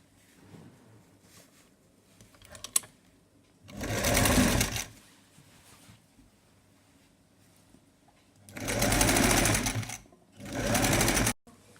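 A sewing machine stitches a two-layer long party dress in three loud, close bursts of rapid whirring, separated by quieter stretches of handling noise.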